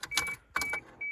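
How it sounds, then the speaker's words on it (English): A Toyota MK3 Supra's ignition key is turned to the on position, giving two short bursts of faint clicking and jingling of the keys, then a steady high electronic chime or whine that starts and stops. "So let's turn the key to the on position and see what happens."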